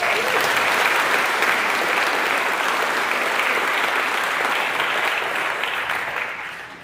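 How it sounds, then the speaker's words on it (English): Loud, dense applause fills the room at an athletics hall of fame awards dinner, many hands clapping in a steady wash that holds for several seconds before tapering off near the end. "How about a round of applause for everybody?"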